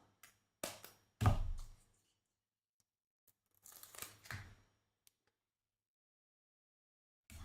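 Scissors cut through craft paper at a papercraft table, giving two short bursts of crisp, close snips separated by quiet, with no talking.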